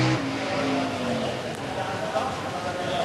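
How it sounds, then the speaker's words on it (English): A top fuel dragster racing a stock vehicle spins its tires hard, a loud continuous roar and tire noise, with a commentator talking over it throughout. "He did spin the tires awfully hard right there."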